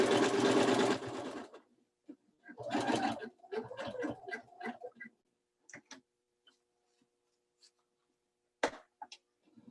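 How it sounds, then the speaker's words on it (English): A sewing machine stitches fabric around a quilted tree in short bursts, a brief loud run at the start and another shortly after, followed by sparse clicks and handling noises. "you just want to sew up to about 1/8 of an inch with your needle down"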